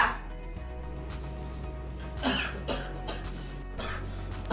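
A man with a sick throat coughs a few times, short harsh bursts spaced over a few seconds against a quiet indoor background.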